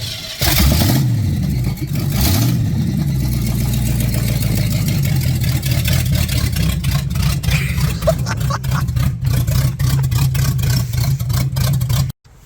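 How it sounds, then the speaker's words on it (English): A car engine with its custom exhaust broken off roars loudly and continuously, revving hard at the start before settling into a rough, rumbling idle that cuts off abruptly at the end. "my car is loud. The exhaust fell off."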